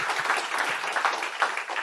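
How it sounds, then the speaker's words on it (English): A town hall audience at the People's Forum applauds newcomers, a brief burst of steady clapping from a crowd, close and even throughout. "can we get a round of applause for our new comrades?"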